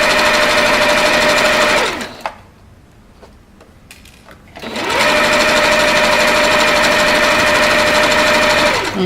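Domestic sewing machine stitching a garment seam, a loud, fast, steady mechanical whir in two long runs separated by a short pause with faint clicks, ending with a back stitch.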